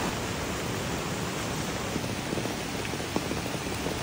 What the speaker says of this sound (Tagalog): Grabe, walang tigil yung ulan guys.